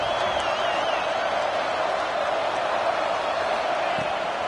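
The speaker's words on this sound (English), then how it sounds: "The crowd electric, trying to help Tech on this 3rd down." Loud, steady roar of a packed stadium crowd at a Tech college football game in College Football 25, building noise for a third down, a continuous wash of cheering with no pauses.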